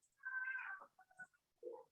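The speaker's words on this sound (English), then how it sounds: "that's my cat." A house cat meows nearby, one drawn-out mew followed by a couple of shorter, softer chirping calls, fairly quiet in an otherwise silent room.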